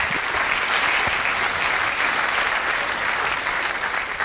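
Steady applause from a comedy show audience fills the whole stretch at even loudness, many hands clapping together with no pauses and no one speaking over it.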